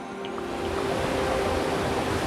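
Twin Falls waterfall on the Buffalo National River in Arkansas, a steady broadband rush of falling water that holds constant and fairly loud throughout, with no voices over it.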